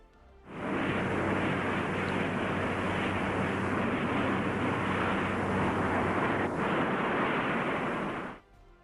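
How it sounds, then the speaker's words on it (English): A modified B-45 jet bomber takes off, a loud, steady broadband roar rising abruptly, holding for about eight seconds and then cutting off, with a slightly hissy, old-film quality. "Historic footage captures the modified B-45's ascent on May 20th,"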